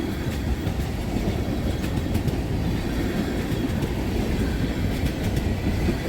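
A CSX freight train's cars roll continuously through Lodi, Ohio, close by, with a dense, even rumble and steady clickety-clack from the wheels on the rails, and no voices.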